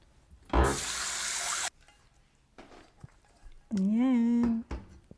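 Tap water gushes into a small pot of rice for champorado in a home kitchen, two separate bursts of running water, the first longer, with a faint tonal whine during the second and quiet pauses between.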